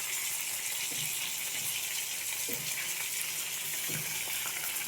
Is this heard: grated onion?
yes